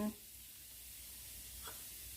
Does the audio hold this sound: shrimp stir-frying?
yes